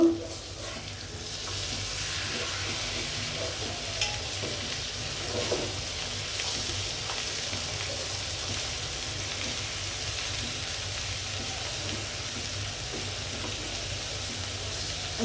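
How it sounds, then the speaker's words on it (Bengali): Rohu fish pieces fry in an oiled pan, a soft continuous sizzle with faint stirring and occasional small crackles, steady and fairly quiet throughout with no talking. "মাছটি হালকা ভাজা দিব, রান্না করব।"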